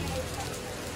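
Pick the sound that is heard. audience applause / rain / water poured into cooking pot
rain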